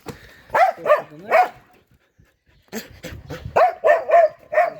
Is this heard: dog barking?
yes